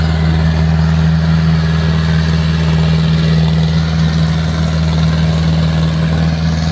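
A steady, loud tractor engine drone with a strong low hum holds constant throughout, like a heavy motor idling nearby.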